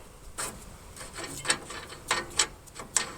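A ratchet removes bolts from a Murray riding mower's cutting deck, giving a series of short close clicking strokes in irregular bursts, fairly quiet, with no talk.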